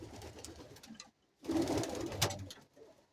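Pigeons kept in a loft coo in low, rolling bursts, close by, with a short quiet gap between phrases and light rustling around them; no one speaks.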